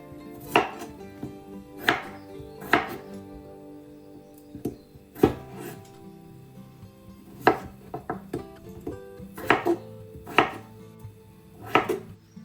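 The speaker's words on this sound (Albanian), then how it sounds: "do të na duhen 7 patate, të cilat do t'i presim siç e shikoni edhe në video" A knife chops potatoes steadily on a cutting board, sharp knocks coming every second or so, close and clear with no talking.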